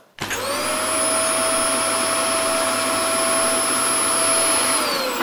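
A broken vacuum cleaner, its fault traced to a lapsed impeller, switches on and runs steadily with a loud, constant motor whine and airflow roar, close by and alone without any talk.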